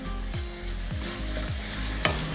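A spoon stirs cauliflower gravy with coriander leaves in a pan, giving four or five rhythmic scraping strokes over a soft steady sizzle, with one sharper clink near the end.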